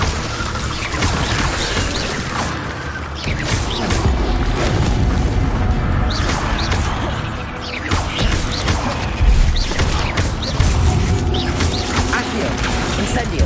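Hogwarts Legacy fire spell Incendio cast over and over amid steady game noise, with booming whooshes, crashes and mechanical clatter packed densely together for the whole stretch.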